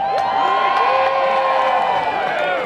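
A large outdoor crowd of thousands at a Groundhog Day gathering cheers and whoops continuously, with shrill shouts and whistles rising over a dense, loud roar.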